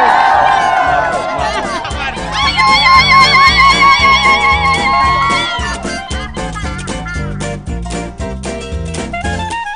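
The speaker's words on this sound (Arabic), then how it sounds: "صفقوا لها صفقة حالة" A studio audience at a festive Eid television show cheers and shouts over loud, rhythmic music with a steady drumbeat.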